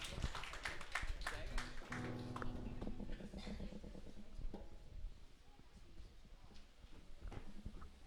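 A church anniversary fellowship audience breaks into rapid, dense clapping that carries on steadily, with voices mixed into the applause.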